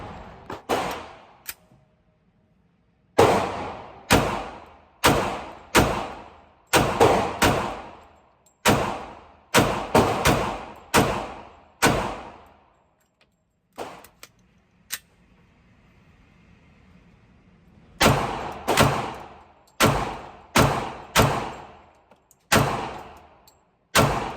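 A string of loud, close single gunshots from Glock 21 and Sig 320 .45 pistols, fired in irregular bursts with sharp cracks and ringing decays, broken by a short pause partway through.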